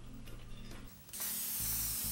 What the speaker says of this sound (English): The first thing to do on a wood kit is to spray clear sealer on both sides of the wood.